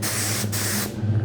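Spray gun misting lacquer onto cabinets, a steady close hiss with a brief break before it resumes and then trails off into a low hum.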